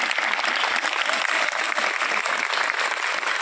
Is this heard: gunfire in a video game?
no